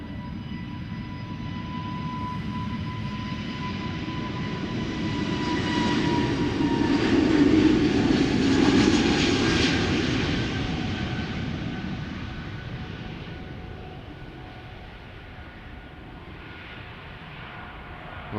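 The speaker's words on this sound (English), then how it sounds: "SAS outbound Copenhagen, A320neo flight 552. Brand new airplane" A brand-new SAS Airbus A320neo departing Schiphol for Copenhagen, its engine roar rising gradually to a broad peak midway, then fading as it pulls away into the distance, with a steady whine running underneath.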